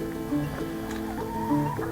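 Chickens in an existing backyard coop cluck and murmur close by, several overlapping fowl calls in a steady, busy chorus.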